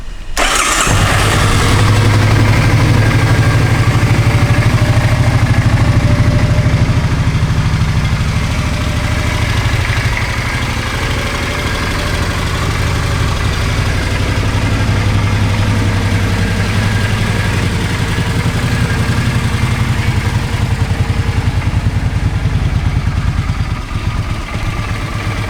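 A 2006 Suzuki Boulevard M50 motorcycle engine cranks and catches, then settles into a loud, steady, close idle with a deep, even throb throughout.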